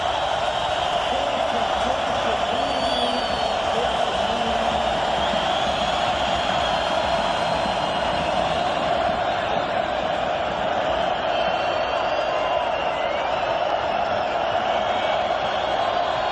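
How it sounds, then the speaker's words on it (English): Stadium football crowd at an AFC Divisional Playoff, Miami Dolphins at Oakland Raiders, roaring in a steady, sustained wash of cheering with no break throughout. "Listen to the crowd."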